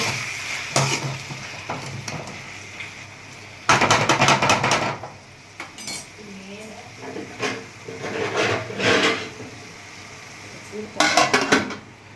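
Chicken curry stirred in a pot, with a spoon scraping and clattering against the metal in several bursts, alongside gentle sizzling and occasional kitchen clinks, close and fairly loud.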